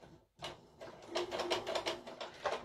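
A sewing machine running with a faulty bobbin, stitching in rapid uneven mechanical clatter after a brief pause, with irregular bursts of tapping and knocking close by, no talking.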